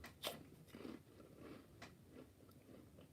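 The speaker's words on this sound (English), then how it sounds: "Sorry, but you're going to have to put up with me munching." A person munching food close to the mic, with soft irregular bites and crunchy chewing sounds spread across a few seconds. The munching is quiet and there is no talking over it.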